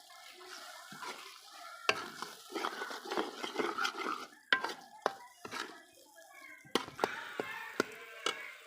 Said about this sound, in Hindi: मटर शामिल कर देंगे कूटे हुए इसमें, अच्छे तरीके से मिक्स कर लेंगे